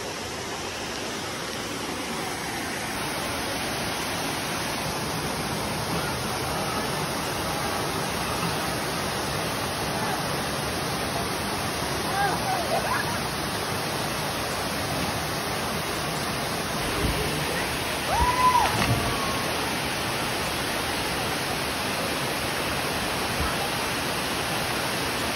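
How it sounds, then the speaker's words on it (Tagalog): Sulcok Falls pours in a constant, broadband roar of falling water that holds steady throughout, with a few slightly louder surges near the end and no voices. "Isa sa pinakamagandang napuntahan kong falls mga kabigote dito sa Sulcok Falls mga kabigote"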